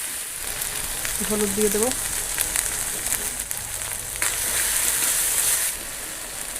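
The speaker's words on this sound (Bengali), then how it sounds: "মশলা ধোয়া জল দিয়ে কষিয়ে নেব।" Spices for a Sundarbans crab curry sizzle and hiss steadily in a hot pan, with a bright continuous fry and small spatters, while someone speaks briefly over the cooking.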